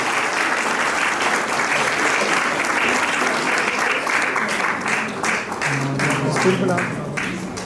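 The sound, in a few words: applause for children at a school annual day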